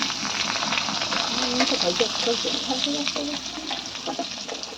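Cumin seeds frying in a pan, with a steady close sizzle and crackle and occasional stirring scrapes throughout, while a voice talks quietly underneath.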